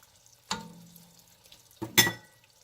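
Tomatoes and ginger stirred in a pot, with a sizzling scrape near the start and a louder clattering stir near the end, quiet in between.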